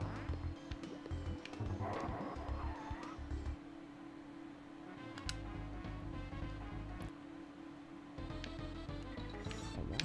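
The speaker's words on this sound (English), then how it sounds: "I love the sound effect that the red croc heads make" Cartoonish quacking, squawking calls from red crocodile heads in Donkey Kong Country 2, sounding repeatedly over busy game music with a steady bass line.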